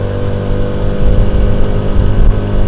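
A Honda Cub C90 motorcycle with a small 50 cc pushrod engine pulls slowly uphill in second gear at about 20 mph on a Cotswolds country lane, its engine a loud, steady, throbbing drone with slight pulsing, with no talk over it.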